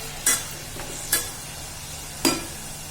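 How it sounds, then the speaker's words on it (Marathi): Three sharp scraping strokes of a spoon in a pan of cumin and red chillies tempering in hot oil, over a soft background sizzle, spaced about a second apart. "लाल मिरच्याची जिरं मिरची ते सगळं हलवून घ्यायचं"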